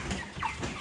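A Ross 308 broiler chicken, about 30 days old, gives a brief close cluck or low squawk, a short soft call with faint background noise.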